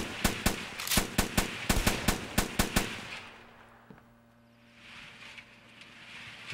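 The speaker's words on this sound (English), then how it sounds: "We got machine guns." Rapid bursts of automatic machine gun fire in a video game, loud and close, firing in quick rhythmic volleys for about three seconds before fading to a low ambient hum.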